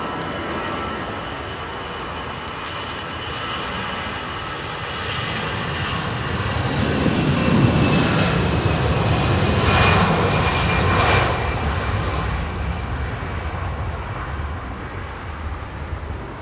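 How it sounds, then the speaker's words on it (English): A British Airways Airbus A320 jet departs Heathrow runway 27R with a broad engine roar that swells to a peak midway and then slowly fades while staying strong. "Love British Airways 320."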